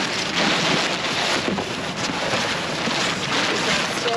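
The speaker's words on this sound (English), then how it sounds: "Ooh, that wind." Wind gusts steadily outdoors beside a donation bin dumpster, a loud broadband roar and buffeting against the microphone that fills the whole stretch without pause.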